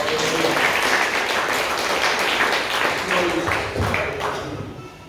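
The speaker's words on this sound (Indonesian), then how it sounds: "Tepuk tangan Tuhan Yesus." A church congregation claps together during a sermon, giving a dense, sustained burst of applause that fades slightly toward the end.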